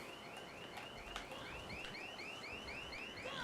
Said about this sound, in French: Ah bah elle était là l'alarme.